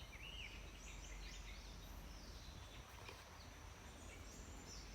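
Birds chirp and call in a forest, faint and distant, with thin intermittent tweets over a low, steady ambient hiss.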